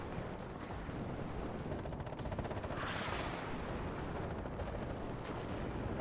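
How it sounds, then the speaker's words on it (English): Dense, distant rumble of an Uragan multiple rocket launcher barrage landing on infantry in the Cold War strategy game WARNO, a continuous wash of muffled impacts with no voices. "There goes the Uragans coming in on those light rifles."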